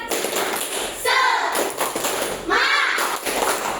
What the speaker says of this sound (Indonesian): Kita tepuk semangat dulu, ya.